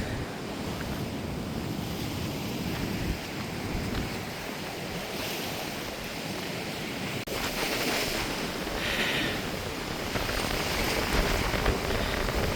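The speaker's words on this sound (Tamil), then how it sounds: "கடலை பாருங்க எவ்வளவு இந்த கடல் அரிப்பு வந்து கொண்டிருக்குன்னு" Sea waves wash steadily against an eroding coastline, a continuous loud roar of surf and churning water mixed with heavy wind buffeting the microphone, with no voices.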